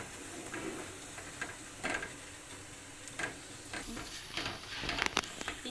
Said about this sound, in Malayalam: നമ്മളിങ്ങനെ ഇളക്കി കൊടുക്കണം. കരിയാതെ അങ്ങനെ ഗോൾഡൻ കളറിലാക്കി ഇതെടുക്കണം.